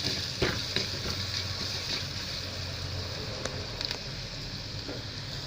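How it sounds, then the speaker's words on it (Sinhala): Chicken curry spice paste with coriander, chili and turmeric powders sizzles in a pan as it is stirred, a steady close frying hiss with faint scraping taps throughout. "දැන් අපි මේක හොඳින් කවලම් කරගන්න ඕන"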